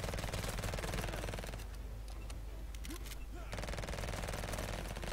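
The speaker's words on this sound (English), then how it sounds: "Time for the submachine gun, which is also quite powerful." Rapid automatic fire from a submachine gun in the browser shooter Venge.io, dense continuous bursts at the start and end with a brief thinner gap in the middle, loud and close.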